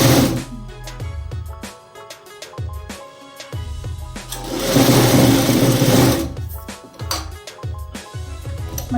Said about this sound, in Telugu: మళ్ళీ 3 క్లాత్స్ సేమ్ పెట్టుకొని స్టిచ్చింగ్ అనేది చేసుకోవాలి